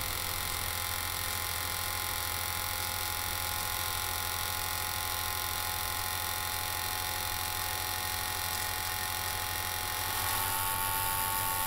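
A small Leybold D1.6B two-stage rotary forevacuum pump runs steadily, giving a constant low mains-like hum with a faint buzzing whine above it, unchanging throughout and close by.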